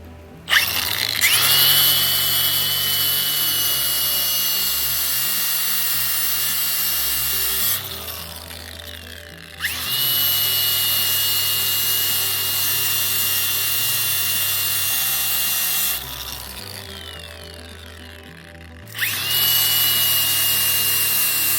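A power tool trims the new metal floor pan section of a 1968 Volkswagen Beetle, cutting in three long, loud, steady bursts of whining grinding with short quiet gaps between them.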